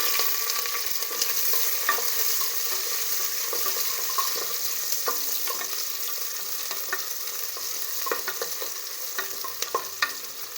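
Finely chopped vegetables frying with cinnamon in a pan for vegetable khichdi, a continuous bright sizzle with frequent ladle scrapes and clicks, close up and without talking.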